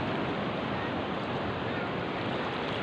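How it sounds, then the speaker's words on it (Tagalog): Strong surf pounds the shore at Cabongaoan Beach in Burgos, Pangasinan, a loud, continuous roar of breaking waves with wind buffeting the microphone and no voices. "Ang lakas ng alon guys."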